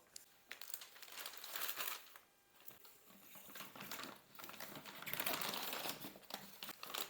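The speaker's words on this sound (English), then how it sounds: "So we're going to set up our pot with the plastic bag ready to go." Plastic brining bag crinkles and rustles in irregular bursts as it is set in a pot for a turkey brine, close and fairly quiet, with no talking.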